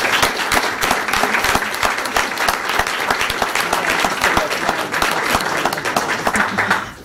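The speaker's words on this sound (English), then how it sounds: "Let's give them all a big round of applause." Audience at a Peoria board of education meeting applauding grant program recipients, loud sharp hand claps in a dense sustained round, close and continuous.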